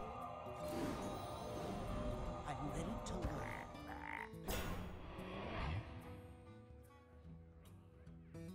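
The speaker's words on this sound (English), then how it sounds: "Nefarian gets to turn into a very small frog with taunt." Croaks from a very small frog in the Hearthstone card game, heard over a busy mix of game music and effects, with a burst of louder effects partway through.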